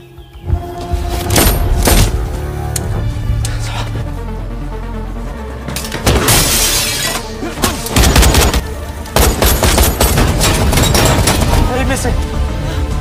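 A film scene of three people fleeing in a stolen car as it is shot at along the road: loud bursts and volleys of gunfire break out at intervals over an action soundtrack, with voices mixed in.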